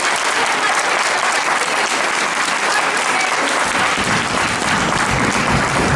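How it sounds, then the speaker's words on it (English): An audience at a stage performance of Peter Pan claps hands together in a dense, continuous burst of applause that stays loud throughout. "Clap your hands if you believe in fairies."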